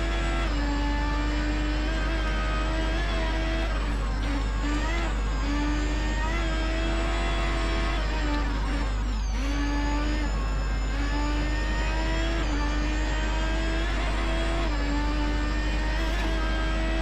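A car's engine accelerates and holds a high, steady whine with small pitch shifts through gear changes while racing in Race Driver: GRID, loud and continuous for the whole stretch with no talking.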